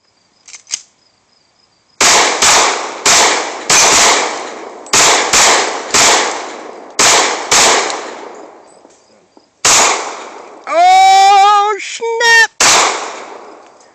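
Pistol shots from a Glock 23 and a Sig 2022 in a two-shooter shooting race, loud sharp reports fired in quick pairs and clusters across several seconds, followed by a shrill electronic timer beep near the end.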